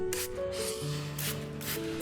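A few soft, breathy hisses of a spray mister misting an orchid, in short bursts over a steady low hum.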